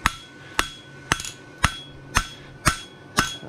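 Hammer strikes on a welded bar shoe horseshoe at the anvil, seven sharp metallic blows at a steady pace of roughly two per second, close and ringing, each with a brief clanging decay.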